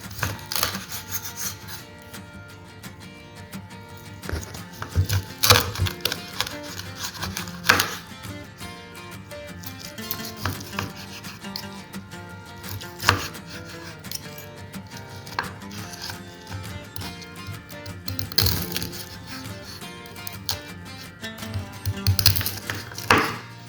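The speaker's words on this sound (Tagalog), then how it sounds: "unahin nating slice yung ating traditionally cooked deep-fried lechon kawali" Crispy deep-fried lechon kawali pork belly being cut with a knife, giving a run of crunchy chopping strikes that land in bursts, close and fairly loud, with no talk.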